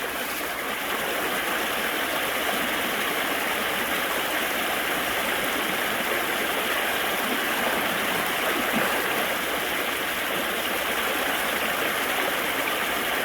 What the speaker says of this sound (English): I'm noticing that my water flow towards the middle of the river is, pretty strong